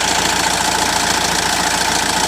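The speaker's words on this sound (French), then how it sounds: "Là, vous voyez que j'ai démarré le moteur" A Renault Scenic 3 1.6 dCi diesel engine idling, a steady, close, loud rumble with an even, unbroken drone and no talk.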